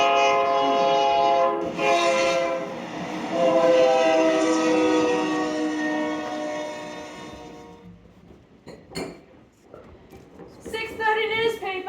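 A train passes at a station with a sustained, loud horn-like tone that fades into rumbling clatter, and voices speak over the end.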